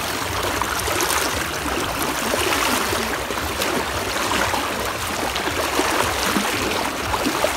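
Water rushes and gurgles continuously, like a flowing river nearby, a steady broadband wash without speech.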